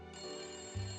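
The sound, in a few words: telephone ringing in the Layton Brothers: Mystery Room video game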